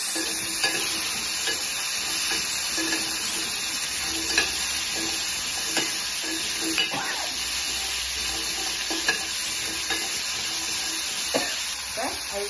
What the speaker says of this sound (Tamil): போட்டு நல்லா வதக்கிக்கலாம்